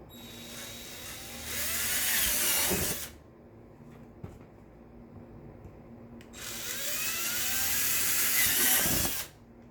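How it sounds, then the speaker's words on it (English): A power drill whirs through a shield in two sustained bursts of a few seconds each, drilling holes, close up, with a quiet pause and a small click between. "And then I'm gonna drill the same exact holes."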